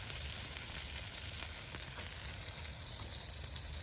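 Smashburgers with cheese and onions sizzle on a Kamado Joe grill, a steady close frying hiss that holds evenly throughout with no voices.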